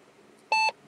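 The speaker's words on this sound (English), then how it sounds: "I don't know why my radio is beeping at me" A single electronic beep, steady and bright, lasting a fraction of a second over a faint background hiss.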